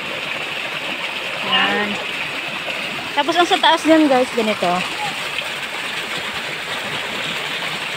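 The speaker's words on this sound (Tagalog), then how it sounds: "Malakas din yung tubig dyan doon din." Strong spring water pours and rushes in a steady, broadband wash outdoors, continuous throughout, while someone talks over it in short bursts.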